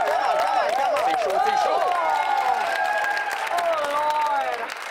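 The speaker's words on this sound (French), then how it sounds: "dès que tu entends les 6 panélistes t'applaudir comme des malades" The six panelists of a TV game show applaud wildly, with steady loud clapping mixed with whooping, wavering cheers that rise and fall, gradually fading a little toward the end.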